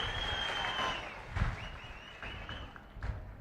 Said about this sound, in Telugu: అవునంటే గట్టిగా చప్పట్లు కూడా చెప్పండి.